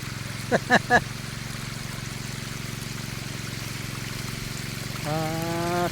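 A water pump pulls river water during a fishing outing, giving a steady droning motor hum with watery trickling underneath. A few short vocal bursts come near the start, and the engine tone shifts higher toward the end.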